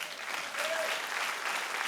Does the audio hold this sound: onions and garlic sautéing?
no